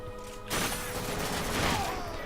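Gunfire in the shooter game The Darkness 2 erupts after a brief quiet lead-in into a dense, sustained burst of rapid shots that stays loud to the end.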